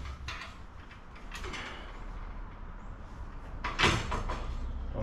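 A rear bike rack for a Specialized Globe Haul ST cargo bike slides along its mounting track, giving a soft continuous scraping rustle with light metallic clicks and a sharper knock near the end, with no talking.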